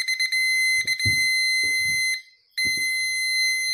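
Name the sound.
parking sensor beeping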